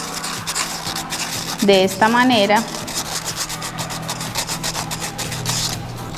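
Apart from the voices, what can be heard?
sanding soda bottle caps to remove paint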